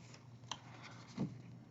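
Curved scissors snip plastic parts from a Tamiya TT-02 Subaru Impreza model kit sprue, with two quiet, brief cuts in a hushed room.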